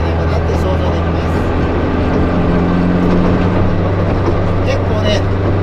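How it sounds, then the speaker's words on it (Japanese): Loud, constant road and engine roar fills the cabin of a Fiat Abarth Assetto Corsa stripped of its interior as it rolls slowly over rough pavement, a dense rumble with a voice talking over it. "ゆっくり走ってると路面の悪いところを通過するときに騒音がすごいですよね"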